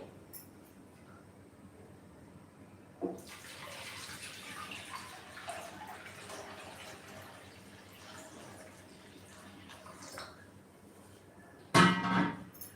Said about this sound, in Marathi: याच्यामध्ये सुद्धा आपल्याला पाणी ओतायचं आहे